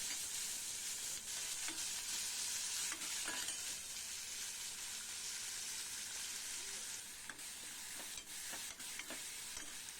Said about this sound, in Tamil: தக்காளி பழத்தையும் போட்டு நல்லா வதக்கிடுவோம்